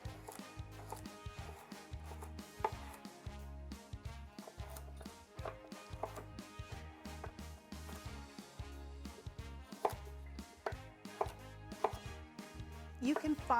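A knife chops carrots into small pieces on a board, a quiet, rapid, regular series of close taps that continues without pause and with no talking.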